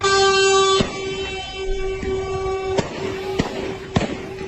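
Gunshots ring out in a news report, several sharp cracks spaced irregularly over a steady tonal hum, with more shots clustered toward the end.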